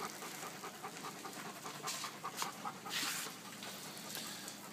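A dog pants steadily during a thunderstorm, a quick breathy rhythm close by that runs through the whole stretch, with a few louder bursts of hissing noise rising over it.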